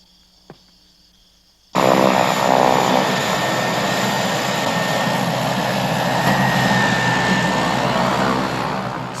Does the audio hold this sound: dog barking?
no